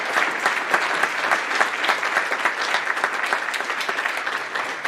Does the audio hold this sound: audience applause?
yes